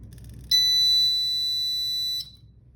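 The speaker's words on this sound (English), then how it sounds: "Now we're going to test our buzzer." A battery-powered buzzer wired to a battery sounds one steady, shrill electronic tone for about two seconds, starting abruptly and then cutting off, loud and close over a faint low background hum.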